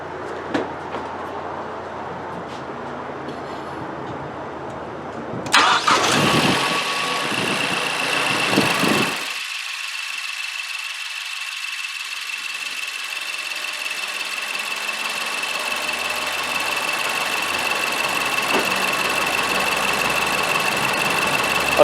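A car engine cranks and catches, then settles into a steady idle hum with the air conditioning switched on, continuing to the end, alone without talk.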